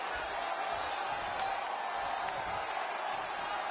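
Crowd noise rumbles and cheers steadily in a wrestling arena during a Sasha Banks match in WWE 2K20, a faint, continuous wash of spectators with no clear peaks.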